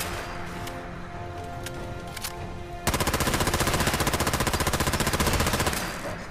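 Sustained automatic gunfire from a weapon in Fallout 4, a rapid even stream of loud, near shots lasting several seconds after a quieter stretch of game ambience.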